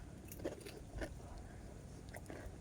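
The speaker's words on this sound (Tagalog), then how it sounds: "Malutong kasi yung bell pepper." Crisp, close bites and chewing of a raw bell pepper filled with cream cheese and topped with spicy chips, a few sharp crunches followed by softer mastication.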